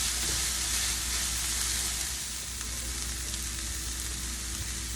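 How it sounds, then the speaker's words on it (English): Ground turkey, onions and mushrooms sautéing in a pan make a steady, dense sizzle that stays loud and even throughout, with faint occasional stirring and no voices. "I'm going to let this saute for a few minutes"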